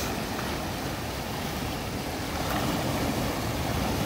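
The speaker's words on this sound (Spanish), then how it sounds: "Bien fuerte el agua." Strong river rapids near a waterfall close to Washington DC rush in a loud, continuous roar of churning water, steady and broadband with no talk heard.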